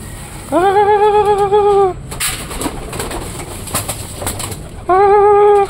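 Pigeons being trained give two loud, drawn-out, steady calls, one early and one at the end, with a rustling, noisy stretch between them.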